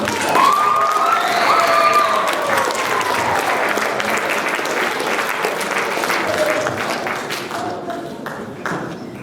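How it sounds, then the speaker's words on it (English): Audience at a stage play applauds understudy Chloe Steen: a dense, steady wash of clapping from a full crowd, with a few whoops and raised voices in the first seconds, gradually thinning toward the end. "give a big round of applause for Chloe Steen"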